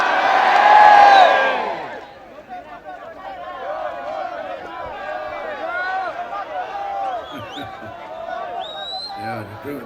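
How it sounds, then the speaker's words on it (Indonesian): A large crowd at an Islamic religious gathering with the governor of Riau cheers in a loud burst, then settles into a busy mix of scattered shouts, chatter and voices. "Boleh kita berikan tepuk tangan Bapak Ibu hadirin yang berbahagia."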